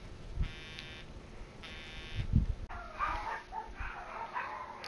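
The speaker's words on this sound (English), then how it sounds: "Sorry if my dogs are barking." Dogs bark in two short low bursts early on, each paired with a steady electronic buzz like a doorbell chime, followed by scattered higher noise and activity in a house.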